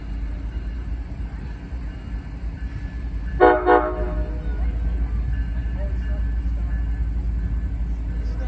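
Diesel locomotive 5397 leading freight train Q416 gives a steady, loud low rumble throughout, with a brief horn-like tonal burst near the middle.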